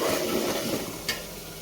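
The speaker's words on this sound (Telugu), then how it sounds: "మూత ఓపెన్ చేసి ఒకసారి మళ్ళీ ఈ ఆనియన్స్ని ఇలా కలుపుకోవాలి." Onions with ginger garlic paste frying in oil for a drumstick and tomato curry, giving a steady close sizzle with a brief scrape as they are stirred.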